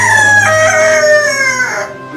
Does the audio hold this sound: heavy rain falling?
no